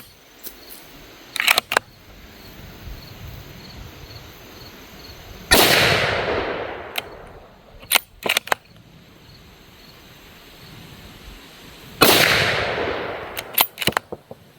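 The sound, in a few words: CVA Cascade SR-80 .308 rifle shots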